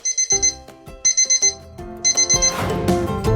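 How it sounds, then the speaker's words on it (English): Alarm clock ringing in three loud, close bursts of rapid electronic beeps, each a quick chain of repeated tones, with a brighter jingling tone flourish following at the end. "Did you hear the sound of the alarm clock in the morning?"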